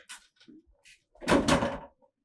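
A house door is shut in a domestic drama scene. A few small knocks and clicks lead into one louder, brief thud of the door closing, heard close with no talk.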